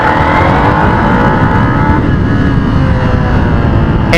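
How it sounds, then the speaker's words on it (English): A motorcycle engine braking in first gear, a loud continuous engine drone with revs climbing steadily, close and alone with no voices. "The RPM level goes up and the engine pulls and it breaks down."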